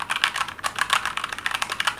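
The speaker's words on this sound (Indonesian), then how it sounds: "Akhirnya gue beli yang brown switch. Dan suaranya kayak gini." Fast, continuous keystrokes on a Keychron K2 mechanical keyboard fitted with brown switches, recorded up close as a dense, even clatter with no voices over it.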